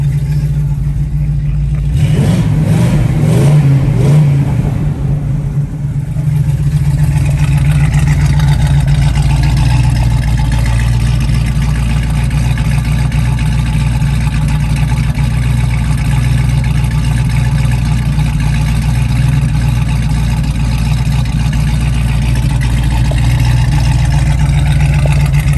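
A 1967 Pontiac Firebird's engine runs loud and steady throughout, with a deep rumbling idle that rises briefly in a rev burst near the start before settling back to a sustained low drone.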